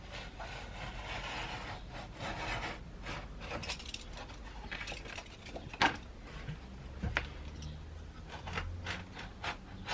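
Utility knife trimming excess material along a guitar fretboard, a steady woody scraping and rasping over ten seconds with a few sharper snaps, close and fairly quiet with no talking.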